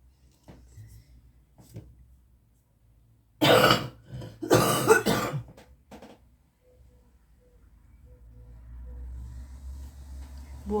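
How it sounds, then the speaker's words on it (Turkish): Two loud, harsh coughs in quick succession close by, surrounded by near silence, followed by faint low rumbling. "Arada hep öksürüyorum."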